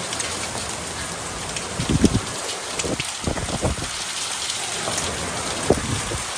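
Steady rain pelts a surface, with a few heavier thumping bursts scattered through a constant hiss of falling precipitation.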